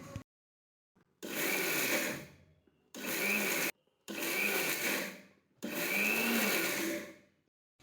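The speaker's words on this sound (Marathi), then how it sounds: "बटन चालू बंद चालू बंद असं करून मिक्सरवर हे खोबरं फिरवून घ्यायचं" A mixer grinder's small chutney jar grinds chilled grated coconut into powder. It runs in four loud, whirring bursts of one to two seconds each, separated by short silent pauses, with no speech.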